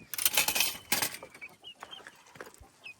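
A rooster and hens cluck in a chicken courtyard in the morning, with a burst of wing flapping early on, then scattered soft clucks and short calls close by.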